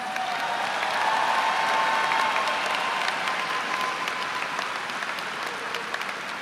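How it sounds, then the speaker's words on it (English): Sustained applause from a crowd at a 2019 high school graduation ceremony for the graduating class, a dense, steady wash of clapping that holds evenly throughout without fading. "Can we give the graduates of 2019 a round of applause?"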